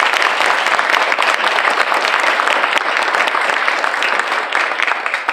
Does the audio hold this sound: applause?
yes